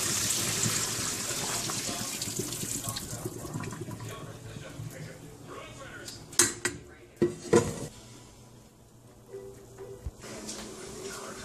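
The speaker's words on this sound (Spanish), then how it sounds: "Vamos a sacar el agua del espagueti." Water being drained from a pot of cooked spaghetti, a running pour that fades out, then several sharp metallic clanks of the pot and utensils.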